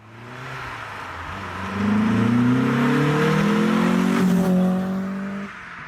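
A Mk2 Volkswagen Golf GTI hot hatch, a homemade Clubsport, accelerates on the road. The engine note climbs loudly and steadily from inside the car, then eases off near the end.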